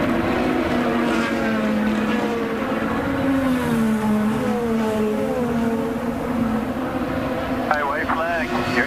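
IndyCar race cars on the final lap of a race in Detroit, engines droning and shifting pitch as they pass, heard under continuous race commentary.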